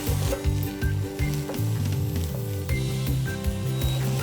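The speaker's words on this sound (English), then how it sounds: "we'll saute the onions until they become soft" Chopped onions sautéing in a pan until soft, a steady close sizzle with a rhythmic stirring scrape and faint background hum, no talking.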